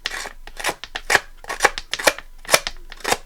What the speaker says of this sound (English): if you don't have one, you can use your scissors